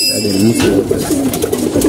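Pigeons cooing at feeding time, a steady stream of soft, low, burbling coos from several birds close by, continuous throughout with no talk.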